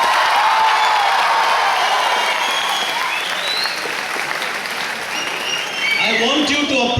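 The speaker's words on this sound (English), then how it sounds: "I want you to applaud the same way for all the teams, not only for the Karnataka team." An audience at a national school quiz final applauds a student team, loud dense clapping with a few cheers that carries through, with a voice briefly speaking near the end.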